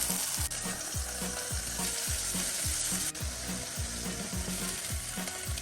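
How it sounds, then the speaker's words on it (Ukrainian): Steady, crackling sizzle of chops frying in a hot pan, continuous and close, with faint scraping of a utensil. "Дивіться, як гарно смажиться, нічого не підгорає, нічого не бризгає."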